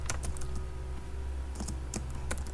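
Quick, light clicks of fingers typing on a computer keyboard, irregular and close, with a faint low hum underneath and no talking.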